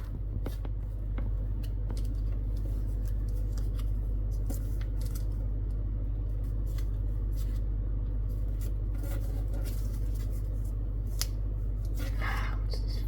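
Paper creased and folded by hand while shaping an origami fighter jet, with crisp scraping and crinkling strokes scattered through a steady low hum, close and fairly quiet.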